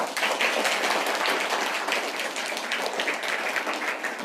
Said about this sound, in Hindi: तो एक बार उनके लिए जोरदार ताली हो।